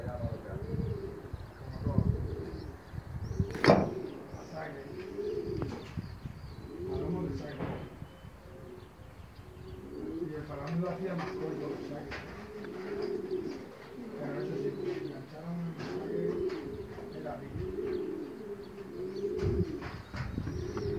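Pigeons coo repeatedly in a busy urban spot in Valencia, soft throaty calls recurring throughout with a few chirps, while people talk nearby over the birds.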